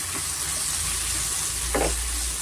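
Coriander frying in a pan for brinjal chutney gives a steady, soft sizzle. A brief stirring scrape comes near the end.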